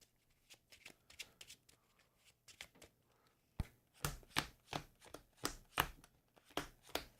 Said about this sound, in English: So shuffle those into here.